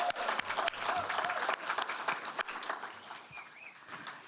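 Scattered, moderately quiet applause from a small audience at a public library news conference, with a few sharp individual claps standing out before it thins and fades toward the end.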